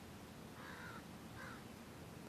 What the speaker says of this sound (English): Crows already crowing.